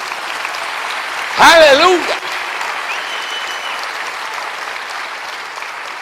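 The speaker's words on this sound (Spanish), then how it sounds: "Dale un aplauso al Rey bendito." Church congregation applauding during a sermon at a worship conference, a steady wash of clapping throughout, with a loud shouted exclamation breaking through briefly near the start.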